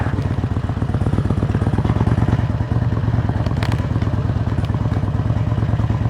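A Harley-Davidson Road King motorcycle on a test ride, its engine giving a steady, loud, deep rumbling pulse that holds throughout with slight shifts in throttle.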